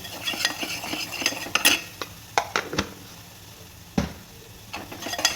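Red chili powder being stirred into pav bhaji in a pan, a series of scraping and clinking spoon strokes against the metal, irregular and close, with a faint sizzle underneath and no talking.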